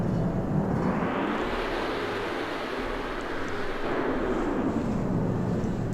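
Bombers arrive in a video game battle, a loud, steady droning roar that fills the whole stretch without letup.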